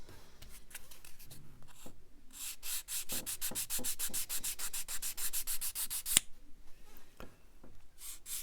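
Close, quick back-and-forth strokes of sanding on the wing flange joint of a Kotare 1/32 scale Supermarine Spitfire Mk1a model, a rhythmic run of rasping passes bracketed by a few scattered scrapes and taps.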